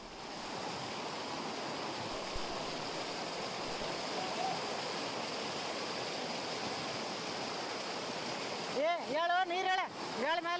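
Floodwater from heavy rain rushes through a street in Belagavi with a loud, steady, unbroken roar. A voice speaks briefly over it near the end.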